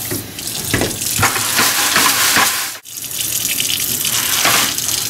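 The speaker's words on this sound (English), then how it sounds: "I'll fill it back up with a little water and shake it and do it again." Rinse water is shaken with tumbler media inside a Frankford Arsenal drum at a sink, sloshing and rattling in loud, rhythmic bursts with one brief pause midway.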